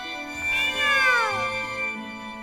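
A cat meows in a 3D animated Cinderella fairy tale, one long drawn-out wavering meow, loud and close, over a quiet background.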